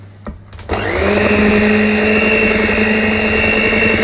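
An electric mixer whirs steadily as milk is beaten into jam and coconut traybake batter, a loud, even motor drone that starts after a few brief clicks and runs to the end.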